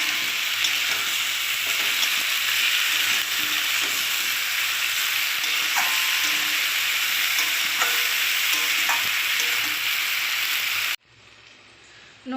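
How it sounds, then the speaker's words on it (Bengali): Spices with pumpkin and potato frying in a pan over medium gas for a rohu fish head ghant, a continuous close sizzle with occasional stirring scrapes, abruptly dropping to a quieter hiss near the end. "দিয়ে আবার ভেজে নেব মশলা আর এই সবজি"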